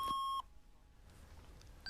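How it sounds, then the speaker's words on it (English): A Sinclair QL home computer emits a single short electronic beep, a steady pure tone that cuts off abruptly, followed by quiet room noise and a faint second blip at the end. "The QL provides the modestly named beep command,"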